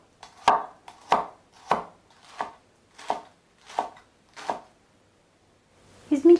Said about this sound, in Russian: Теперь миленько нарезаем лук, отдельно белую часть,